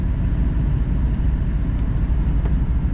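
A Duramax pickup truck idles with a steady low rumble as its transmission is shifted into drive, the engine note droning evenly with a few faint clicks over the top.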